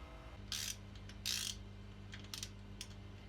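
Ratchet works on a spark plug in the engine bay of an Austin Metro, giving a few short bursts of clicking, two louder ones early and fainter ones after, over a steady low background hum.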